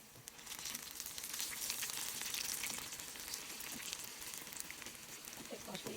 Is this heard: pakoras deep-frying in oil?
yes